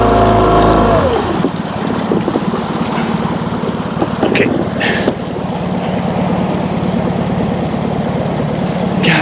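A fishing boat's outboard motor runs steadily on a river with boulders, a loud continuous engine drone with a knocking chug that holds from start to finish with no talk.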